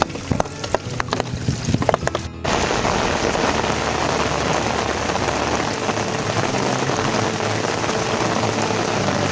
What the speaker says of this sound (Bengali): আজকের আবহাওয়াটা অনেকই খারাপ ছিল প্রচুর বৃষ্টি চারদিকে থেকে ঝোড়ো বাতাস